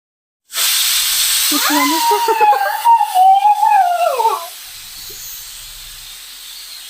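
A pressure cooker cooking cassava for a fry lets out a sudden loud hissing release of steam with a wavering whistle over it, then settles into a softer continuous hiss.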